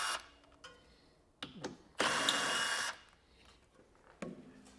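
Power tool removing bolts from the frame horn of a 2021 vehicle during a base plate installation, a short loud burst of whirring in the middle between quieter clanks and handling noises.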